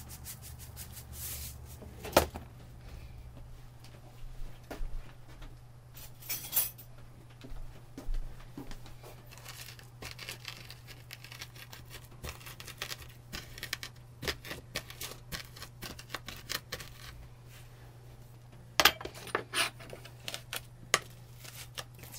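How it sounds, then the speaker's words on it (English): A knife dices garlic on a cutting board with irregular bursts of quick taps and chops, sometimes scattered and sometimes clustered, over a steady low hum in a quiet kitchen. "So we continue to dice through it, cut through it"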